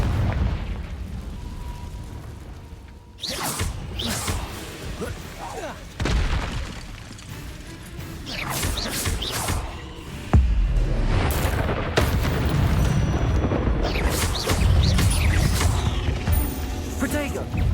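Confringo spell blasts in Hogwarts Legacy, several sharp booming explosions and bursts scattered through busy combat noise, with loud broadband hits recurring near and close amid ongoing fighting sounds.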